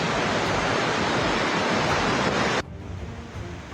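Muddy floodwater pouring down from the hills after a cloudburst makes a loud, steady broadband roar close by. It drops abruptly to a quieter rush near the end.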